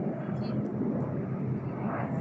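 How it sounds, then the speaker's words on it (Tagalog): A helicopter passing over Tsim Sha Tsui in Hong Kong, a steady broadband rotor and engine roar that holds at an even, fairly loud level for the whole stretch amid city ambience, with people's voices mixed in. "Ayan po, helicopter, oh."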